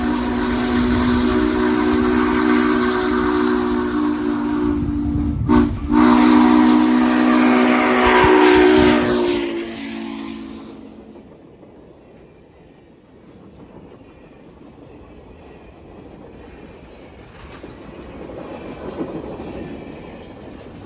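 US Sugar #148 steam locomotive hauling a heavy train on the Florida East Coast Railway, with loud chuffing and rumbling close by, a steam whistle blast partway through, then the sound fading away into quiet distance.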